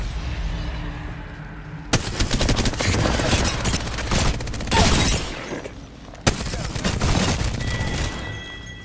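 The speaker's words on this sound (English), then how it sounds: "Getting shot at." Heavy gunfire in the video game Apex Legends, sudden loud volleys of rapid automatic shots with booming impacts, a brief lull, then another sharp burst; a voice talks at moments.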